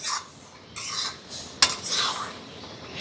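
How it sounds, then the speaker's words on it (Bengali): A spiced raw mango sandesh mixture is stirred in a pan, with soft scraping strokes at an uneven rhythm and one sharp utensil clink midway. The sound is close and fairly quiet, with no talking. "মশলাটা দিয়ে খুব ভালো করে মিশিয়ে নিতে হবে।"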